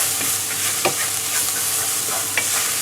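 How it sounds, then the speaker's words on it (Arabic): Minced garlic fries in hot oil as a spoon stirs it, giving a close, steady sizzle broken by a few soft scrapes against the pan. "وبعد كده على طول هننزل بالثوم المفروم بتاعنا"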